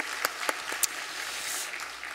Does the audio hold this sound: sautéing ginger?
no